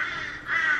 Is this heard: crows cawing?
yes